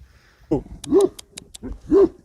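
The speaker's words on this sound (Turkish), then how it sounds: "Onların köpekleri havlıyor." A dog barks and yips a few times close by, with short whimpering calls spaced irregularly and no talking.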